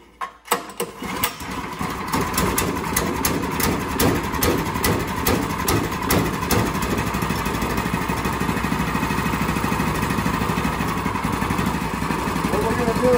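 A Predator 212 small gasoline engine, a Honda clone, cranks with a few rough sputters, then catches and settles into a steady, loud, close running drone for its break-in.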